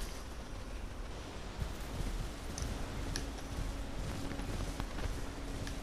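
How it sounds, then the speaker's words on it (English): Steady outdoor wind blows in the Elden Ring video game, a constant broad rushing roar at moderate loudness with faint scattered ticks and no talking. "Damn, it's windy out here."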